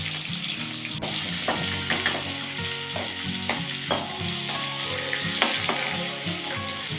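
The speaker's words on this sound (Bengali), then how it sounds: "চিংড়ি মাছটা এবারে উল্টাচ্ছি, উল্টিয়ে ভাজি।" Prawns sizzle steadily in hot oil in a pan as they are flipped and fried for a prawn curry, a close, continuous crackle with occasional clinks and stirring.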